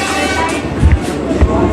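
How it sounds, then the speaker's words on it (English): A Ugandan passenger train passes at Namboole, a rumbling rail roll with a couple of low heavy thumps near the end, fairly loud and close for a brief moment. "Experiencing Uganda'S train."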